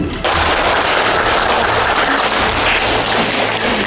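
A sudden burst of loud applause erupts from a group at a search-and-rescue training for fire brigade and civil service police members in South Sumatra, then holds as a thick, sustained wall of clapping.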